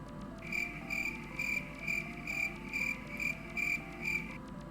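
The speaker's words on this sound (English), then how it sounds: "The crickets are loud." Steady, evenly pulsed cricket chirps in a video game repeat about twice a second, loud and synthetic-sounding over a soft electronic hum, with no voices.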